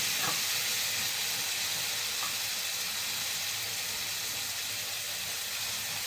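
Canned tomato pieces hitting a hot pan give a loud, steady broadband sizzle that carries on evenly, with no talk.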